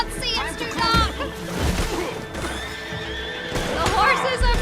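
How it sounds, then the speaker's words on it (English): Frightened horses in the Red Dead Redemption video game, with loud whinnying neighs and rapid clip-clopping hooves close by, mixed with game sounds and bursts of voices. "The horses are frightened."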